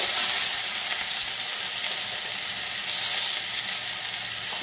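Potatoes fry in oil with a bay leaf tempering. A loud, continuous hiss and crackle holds steady throughout, close up and with no voices.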